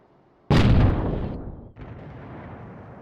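A single heavy cannon shot from the Mk50 TWL vehicle in a video game booms out loud and close, a sharp blast with a long rumbling decay that fades into steady engine-like background noise.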